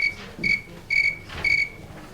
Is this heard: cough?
no